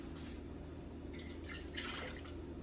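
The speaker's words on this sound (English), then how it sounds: "we're going to start with 1 cup of water" Water poured from a measuring cup into a mixing bowl while baking, a steady splashing trickle that swells near the end, close and moderately quiet.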